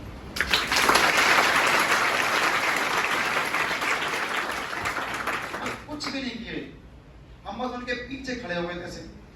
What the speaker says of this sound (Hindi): सर के तालियां